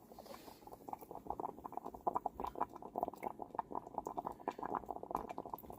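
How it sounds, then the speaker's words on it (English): Water coming to a boil in a Stoke Voltaics 500-watt electric kettle, with dense, irregular bubbling and popping heard close up and fairly steady throughout. "It's already bubbling."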